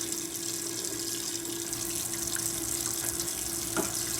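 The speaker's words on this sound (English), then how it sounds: "Got to wash the pan." Tap water runs steadily into a kitchen sink while a pan is washed, a continuous close hiss with a faint underlying hum and no talking.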